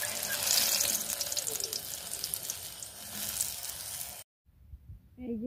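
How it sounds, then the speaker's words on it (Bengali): Boti chop fritters fry in hot oil with a steady broadband sizzle and hiss for several seconds. The sound then cuts to near silence. "এই যে দেখুন পরপর করে আমি সবগুলো ভেজে নিয়েছি"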